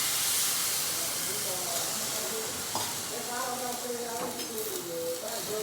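Onion hisses and sizzles as it is tempered in hot oil with mustard seeds and curry leaves for a vaghar, a steady loud fry with stirring, and people talk over it.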